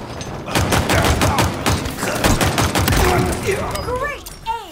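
Dense rapid gunfire from a Halo Infinite Slayer match on the Live Fire map, loud and close bursts continuing for several seconds before tapering off, with voices calling out over it.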